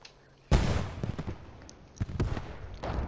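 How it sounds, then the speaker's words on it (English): Long-range HE artillery shells landing in a World War II wargame battle over open ground, a sudden loud blast followed by several further booms and crackling bursts at varying distances. "there's Scott pounding in with some long-range HE"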